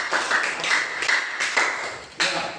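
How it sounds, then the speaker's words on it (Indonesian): A small classroom group gives brief applause, a handful of sparse hand claps arriving in loose bursts, moderately loud and close, with no talking over them. "Ya, tepuk tangan dulu Pak."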